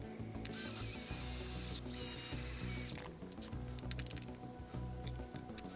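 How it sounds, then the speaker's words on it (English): A power driver sets screws into the shock tower of an Arrma Granite 3S RC car, a whirring motor buzz running in short bursts with clicky ratcheting, close and fairly quiet. "Let's get them screws in there."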